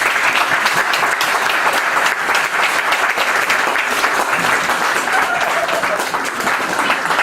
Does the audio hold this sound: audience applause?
yes